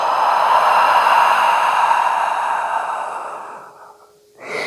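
A deep, breathy exhale follows a big breath in during a prenatal yoga session, heard as a loud, close, airy sigh that tapers off slowly, then a brief soft rustle.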